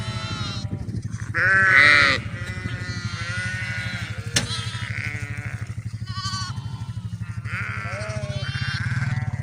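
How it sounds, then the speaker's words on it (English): Lambs bleating out in a pasture, several repeated calls near and at varying pitch over a steady low rumble. "Look at the lambs"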